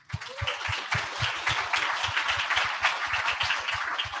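An audience claps for a panel speaker at a summit, a steady run of dense applause with sharp, regular hand claps heard close and fairly loud throughout.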